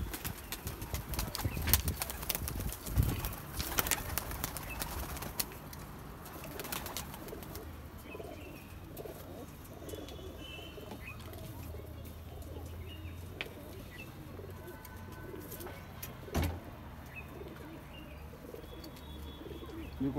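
Teddy pigeons coo softly in a loft, low throaty calls repeating beneath scattered clicks and a few sharp knocks, fairly quiet and close.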